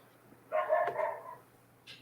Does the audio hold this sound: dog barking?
yes